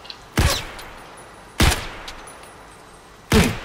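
Gunfire in Escape from Tarkov: three loud, sharp single shots spaced about a second apart, each with a brief echoing tail over a quiet background.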